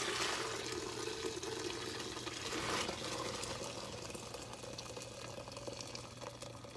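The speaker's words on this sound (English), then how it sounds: "We're gonna drain that into the pressure cooker, straining out any maybe little bits of bone" Pho broth pours steadily from a pot through a strainer into a pressure cooker, a continuous splashing rush of liquid that is loudest at first and eases slightly over several seconds, with no talking.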